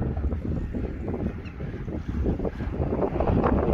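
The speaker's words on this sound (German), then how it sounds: "Es ist heute sehr windig an der Schlei." Strong wind on the Schlei waterfront in Schleswig-Holstein buffets the microphone with loud, continuous low rumbling gusts and no talk.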